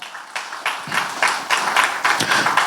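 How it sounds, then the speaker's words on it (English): Enthusiastic audience applause at a film trailer launch event, a dense wash of many hands clapping with rhythmic swells, moderately loud and continuous throughout. "let's have a big round of applause for the national award-winning director"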